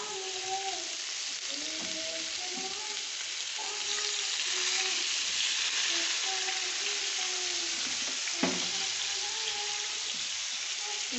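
Fish curry sizzles in a hot pan, a dense steady frying hiss with soft stirring sounds, heard close and alone, one brief clink near the end.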